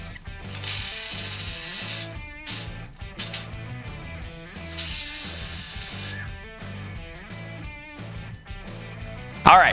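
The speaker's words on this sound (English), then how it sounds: "I'm opening up the hole in just the first two 2x4s to just slightly less than the diameter of the threads of the screw" A power drill bores pilot holes into the ends of 2x4s for a wall storage frame, with a loud whining motor and ratcheting, rising and stopping in several close bursts.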